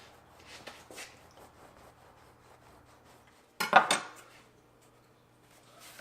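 A bread knife saws across slider rolls on a board, soft rasping strokes early on, then a sharper brief burst of cutting and clatter near the middle, close and otherwise quiet.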